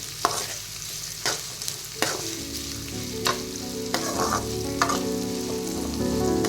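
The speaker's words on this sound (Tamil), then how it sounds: "அது வரைக்கும் நல்லா ஃப்ரை பண்ணுங்கள்" Onions fry in a pan until brownish for a fish curry, giving a steady close sizzle broken by several sharp scraping stirs of a spoon.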